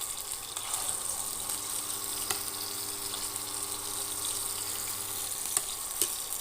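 Paneer fries in hot oil with a constant, dense sizzle at moderate loudness, a low steady hum beneath, and a couple of sharper pops near the end.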